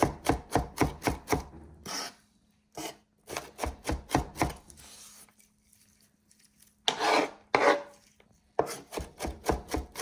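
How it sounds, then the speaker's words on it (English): A knife minces onions on a cutting board in quick bursts of rapid, close chopping taps, broken by pauses and a few scraping sweeps across the board. "And those are beautiful minced onions."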